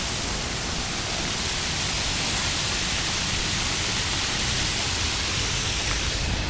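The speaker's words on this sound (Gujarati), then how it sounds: "મિત્રો આ આખું કેમિકલવાળું પાણી છે ને આખું રસ્તા પર જઈ રહ્યું છે" Chemical-laden wastewater runs along a road in the Kadodara GIDC industrial area as a steady, loud, continuous rush of flowing water, close by and unbroken, with no voices.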